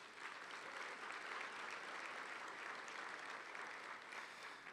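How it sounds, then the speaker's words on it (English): Steady, sustained applause from a school-district education event audience, fairly faint and distant, holding evenly throughout with no break. "Let's give them a big round of applause."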